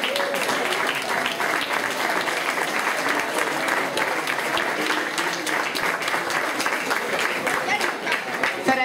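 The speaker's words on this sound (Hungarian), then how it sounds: "És egy nagy tapsot a polgármester úrnak." Sustained crowd applause honors the mayor at a Hungarian folk dance festival's closing evening, dense steady clapping filling the hall for several seconds with voices mixed in underneath.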